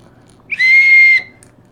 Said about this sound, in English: whistle works.